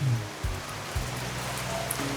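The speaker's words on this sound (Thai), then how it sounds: "ฝนตกเล็กน้อย" Light rain falls as a soft, even hiss with a few low thumps near the start, steady and unbroken throughout.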